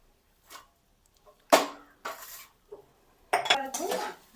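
A metal lid clatters onto a pan of stuffed okra (bhindi) on a low flame, several sharp close clanks and scrapes of metal separated by short silences.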